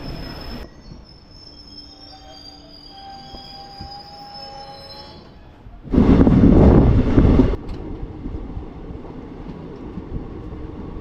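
Yercaud Express train pulling into Arakkonam Junction, with a steady rolling rumble and faint high wheel squeals, then a loud harsh burst of a few seconds before settling back to a lower clatter; no talk.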